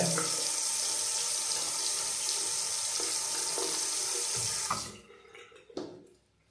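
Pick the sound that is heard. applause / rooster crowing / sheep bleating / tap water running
tap water running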